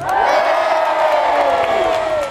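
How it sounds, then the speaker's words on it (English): Big crowd cheer at a seaside carnival with a Red Devils parachute display, a loud sustained roar of voices and whoops rising together on cue and holding steady for a couple of seconds. "after 3 we get a nice big cheer"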